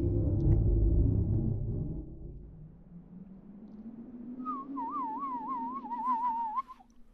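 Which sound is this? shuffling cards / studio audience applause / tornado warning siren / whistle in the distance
whistle in the distance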